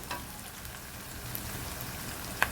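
Fresh shallots frying in hot oil, a steady soft crackling sizzle throughout with a sharper pop near the end, no voices.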